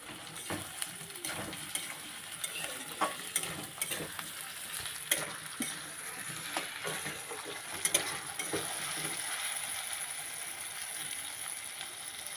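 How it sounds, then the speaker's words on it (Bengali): Fried potatoes tossed with onion, tomato and spices in a pan give off a soft, continuous sizzle, while repeated spatula scrapes and taps punctuate it throughout, fairly quiet overall. "আলুটা ভালো করে মশলার সাথে কষিয়ে নিতে হবে।"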